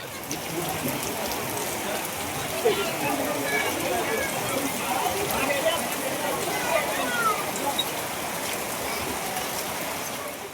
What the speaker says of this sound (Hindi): बारिश बहुत परेशान कर रही है।